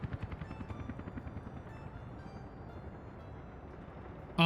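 A voice imitates a helicopter with a quiet, rhythmic chopping that starts as distinct pulses, then blurs into a faint steady whir before a sudden loud burst at the end.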